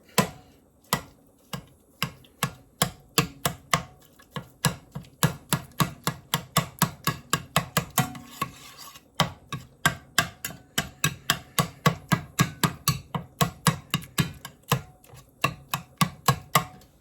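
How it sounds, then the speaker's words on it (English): Rapid, regular knife strikes on a cutting board chop ingredients for Cajun dirty rice, sharp clacks in a quick steady rhythm with a brief pause midway, close and alone. "let me chop that up a little bit"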